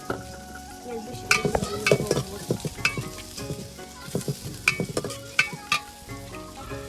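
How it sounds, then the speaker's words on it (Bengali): Chopped onions frying in oil on a clay stove, a steady loud sizzle broken by frequent sharp clinks and scrapes of a spatula stirring the pan, no talk. "এখানে এখন পেঁয়াজ কুচিগুলো ছাড়া দিব আর গোল্ডেন ব্রাউন করে ভালো মতো ভেজে"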